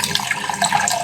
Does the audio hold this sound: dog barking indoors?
no